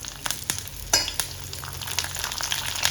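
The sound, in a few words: curry leaves and shallots sizzling in oil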